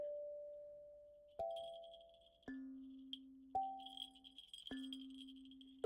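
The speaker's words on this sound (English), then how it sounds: "it's a bell type earring" A small bell-type earring jingles in a few separate bright rings, each ring with a sharp strike and a slow fading decay, close and quiet, with faint tinkling between strikes.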